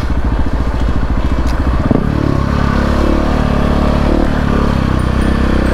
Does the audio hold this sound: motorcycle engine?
yes